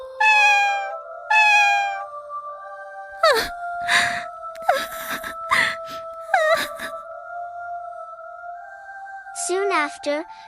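A white cat meows and wails in long, melodic, singing-like cries, several drawn-out calls in close succession, loud and near, with sharp short yowls in between.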